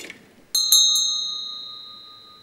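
A bell struck once during a lecture demonstration on noise and music: a faint tap, then a bright metallic strike and a second strike, leaving a clear ringing tone that decays slowly over two seconds, no voices.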